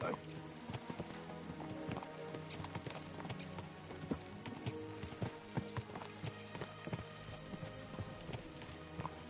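Horses galloping in the video game Kingdom Come Deliverance 2, a close, steady run of hoof clip-clops with a possible whinny, under a game soundtrack.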